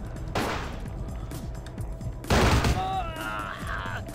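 Gunfire in the video game Vampire: The Masquerade – Bloodlines, a couple of loud heavy blasts amid busy game noise and a dense background bed, with some voice underneath.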